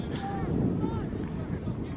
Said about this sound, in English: definitely feel the wind here now